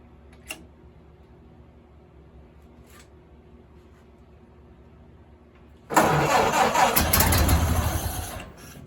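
A Ford Model A engine is cranked by its starter after sitting for decades, beginning with a quiet stretch and a couple of faint clicks, then a loud, rhythmic churning crank for about three seconds before trailing off.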